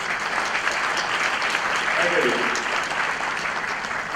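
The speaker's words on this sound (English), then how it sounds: "Oh, please clap it" Sustained audience applause fills the room at a King County Shri Guru Bhagavat Day gathering, a dense steady wash of many hands clapping, with a speaker's voice briefly heard over it.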